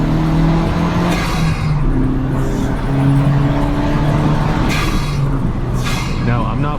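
A 2023 Honda Civic Si accelerates at partial throttle, its engine holding a steady, close droning note that rises gently without reaching full power.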